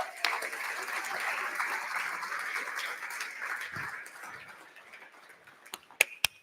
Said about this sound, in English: Massive round of applause for them.